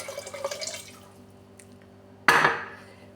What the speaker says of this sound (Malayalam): അതിനകത്തേക്ക് ഒരു 4 ഗ്ലാസ് നമുക്ക് വെള്ളം ഒഴിക്കാം